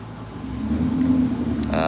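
A Dodge SRT runs on a chassis dynamometer with a steady, deep engine drone that swells slightly toward the middle and then holds. A brief high-pitched tone sounds near the end.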